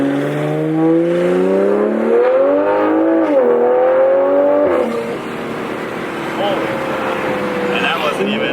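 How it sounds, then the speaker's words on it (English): Turbocharged Toyota A90 Supra accelerating hard, engine note climbing through the revs with turbo spool whistling on top, loud and close from inside the car, then easing off after a shift. "You really hear that turbo more too."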